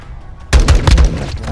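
Semi-automatic gunfire in the video game Modern Warfare 2, a quick burst of sharp loud shots after a quiet start, several rapid reports close together.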